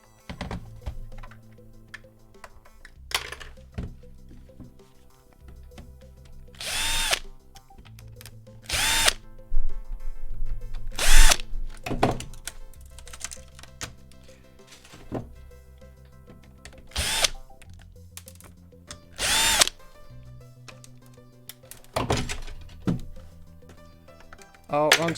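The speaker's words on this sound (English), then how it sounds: "Oh, wrong screwdriver." Power screwdriver removing screws from a Nintendo Wii console during a teardown, sounding in repeated short whirring bursts between quieter handling clatter, close and loud, with someone talking in between.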